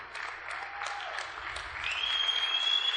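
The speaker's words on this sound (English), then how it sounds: "That deserves a hand of applause." Crowd applause at the 2009 US Open racquetball finals, a steady dense patter of clapping from the spectators that swells slightly toward the end, heard from a distance in an indoor court.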